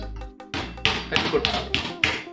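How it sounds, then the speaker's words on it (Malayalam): A dried mango seed cracked open by hand, giving a run of about five sharp, close taps and cracks spaced roughly evenly over a couple of seconds. "ആദ്യം ഇത് പൊട്ടിച്ചിട്ട് ഇതിനകത്തുള്ള പരിപ്പ് പുറത്തേക്ക് എടുക്കണം."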